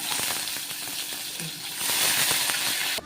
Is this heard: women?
no